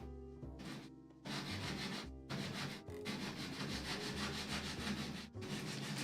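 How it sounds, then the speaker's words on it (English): Coarse 60-grit sandpaper rubs hard against wood while shaping a folding camp tray table, in rough scraping strokes with short pauses between bursts and no talking. "this sandpaper is making a nice little bit of sawdust"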